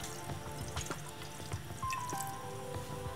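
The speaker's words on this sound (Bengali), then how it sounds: "প্রথমে ফ্রাই প্যানে পানি দিয়ে দিব" Water poured into a frying pan for oil-free mixed vegetables, giving a steady close pour with scattered drips and light splashes over roughly three seconds in a kitchen.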